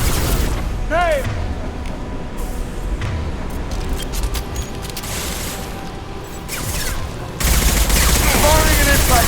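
Rapid gunfire rattles in bursts during combat in the video game Mass Effect 2, mixed with mechanical clanks and whooshes, and people speak over the fighting. The fire grows louder and denser near the end.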